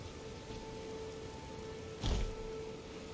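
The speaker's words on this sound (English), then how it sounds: "Now it's raining." Rain falls in the video game Elden Ring as a steady, soft wash of noise under a faint sustained tonal hum, with a brief louder rumbling burst partway through.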